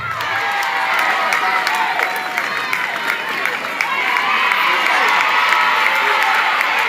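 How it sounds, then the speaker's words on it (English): Audience at a senior high school art and academic awards ceremony in Ghana applauding and cheering as an award winner is welcomed, a loud, steady crowd roar with dense clapping, whoops and children shouting throughout. "with a round of applause from all"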